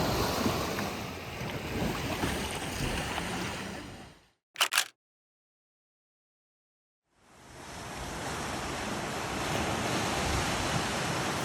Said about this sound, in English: And the waves are going crazy.